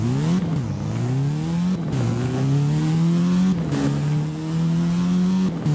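A Pontiac Solstice in the game Driving Empire revs repeatedly through rising gear pulls, each climb cut by a short shift dip, the engine loud and close with no talking.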